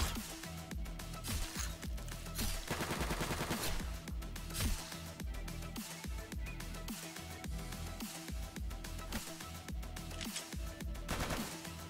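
Rapid bursts of gunfire in a video game fill the whole stretch, dense and loud, with repeated shots layered over a steady game soundtrack.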